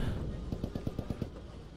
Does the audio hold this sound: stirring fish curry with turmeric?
no